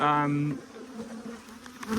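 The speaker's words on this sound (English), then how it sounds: "I've got bees." Honey bees make a loud, steady buzzing drone with a strong harmonic hum for about half a second, then quieter background noise with faint clicks.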